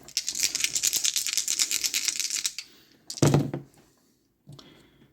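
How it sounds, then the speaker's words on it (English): Dice clatter and click rapidly while rolled during a tabletop Strat-O-Matic baseball game, a dense rattling burst for several seconds followed by a couple of separate thunks as a die drops off the table edge. "that's the infamous clicking noise of the die falling off the edge"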